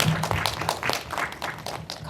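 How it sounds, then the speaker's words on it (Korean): Scattered clapping from an audience at a film screening talk, moderately loud, with individual claps standing out and a few faint voices mixed in. "박수 부탁드립니다."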